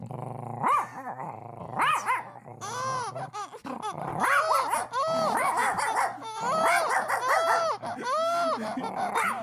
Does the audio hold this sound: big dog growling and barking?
yes